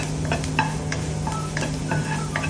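Chopped garlic stirred in sizzling butter in a pan, a steady frying hiss with light scraping taps from the spoon at irregular intervals, close and fairly loud, no talk.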